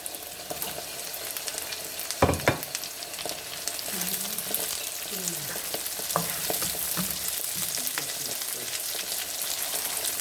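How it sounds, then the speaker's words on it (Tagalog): Chili flakes and spring onion stirred into pork frying in oil with garlic, onion and ginger, a steady close sizzle broken by scraping stirs and one sharp knock of the utensil early on. "Mix lang natin ang ating chili flakes at ang ating"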